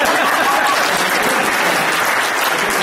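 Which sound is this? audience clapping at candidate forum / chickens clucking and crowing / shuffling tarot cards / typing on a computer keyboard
audience clapping at candidate forum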